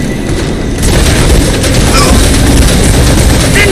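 A grenade goes off in a zombie-killing video game, a booming, loud, sustained blast that stays thick and rumbling for several seconds.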